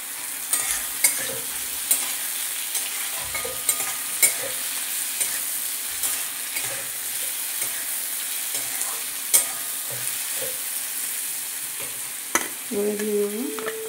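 Jackfruit seeds frying in a pan, with a steady close hiss of oil and intermittent scraping clicks of a stirring utensil, plus a brief tonal clatter at the end.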